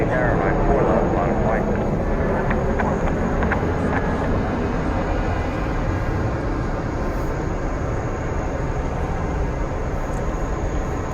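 An Atlas Air Boeing 747-400 freighter taking off at JFK Airport, with a steady, loud jet roar that fills the whole stretch without letup, heard alone.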